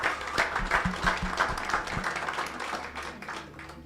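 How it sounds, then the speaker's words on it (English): A forum audience gives the panel another round of applause, moderately loud clapping that swells at first and then slowly thins out, with a few low thumps early on. "Another round of applause."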